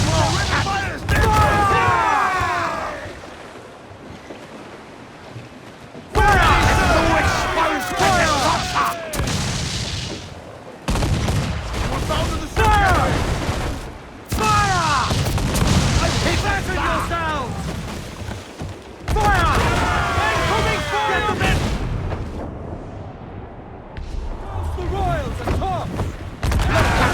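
Pirate-era sailing ship cannons fire in Assassin's Creed 4 Black Flag: heavy, loud broadside booms in repeated volleys several seconds apart, with rumbling decay, sea noise and shouted crew voices between them.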